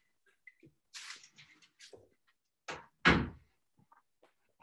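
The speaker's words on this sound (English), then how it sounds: "I'm just gonna close the door." A door is shut indoors with a few soft knocks and rattles of handling, then a solid thud as it closes, close by and with no talk over it.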